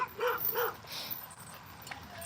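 A dog working a springpole in a yard at night makes a couple of short whimpering yips over steady broadband background noise, followed by fainter scuffling.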